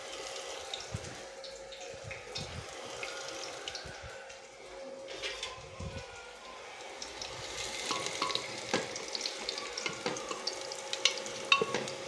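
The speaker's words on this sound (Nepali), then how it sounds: "त्यो पछि थिनली चप्ड गार्लिकलाई हामी हाल्ने।" Thinly chopped garlic fries with whole spices for dal, a low, soft sizzle with faint stirring and light scraping that grows a little busier in the later seconds.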